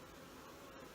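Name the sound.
agitated bees buzzing during hive inspection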